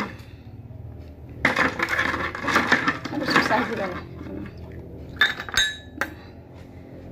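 Ice cubes in a glass with olive oil clink and rattle in short bursts, near and fairly loud, with a voice speaking briefly between the knocks.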